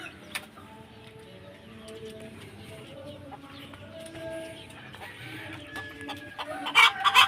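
Chickens cluck softly and repeatedly at a distance, with a rooster-like call rising near the end amid outdoor background noise.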